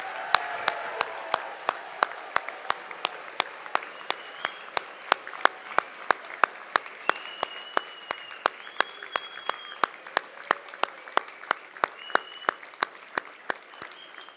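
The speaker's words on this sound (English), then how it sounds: "I would like the audience to stand up and to give a big round of applause to the class of" A commencement audience applauds a graduating class with a steady, sustained wash of many hands clapping in a large hall, sharp individual claps standing out, a few faint whoops, and a brief voice partway through.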